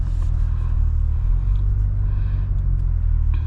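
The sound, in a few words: 500 HP C8 Corvette accelerating in track mode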